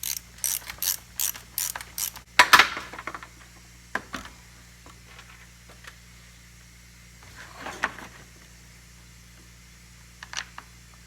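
A few quick ratcheting clicks and fiddly metallic handling sounds close by as screws are snugged into the handle of a Stihl MS 260 chainsaw, followed by sparse faint clicks and shuffles over a quiet background.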